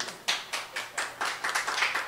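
Several people clap in a steady, brisk rhythm at a live bohemian music show, sharp claps repeating alone at a moderate distance.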